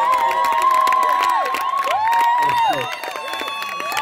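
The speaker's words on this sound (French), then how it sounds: "Les acclamations, ça fait baisser la pression." Wedding guests cheer loudly, with shouts, whoops and high calls from adults and children layered over scattered clapping. The noisy crowd stays close and busy throughout.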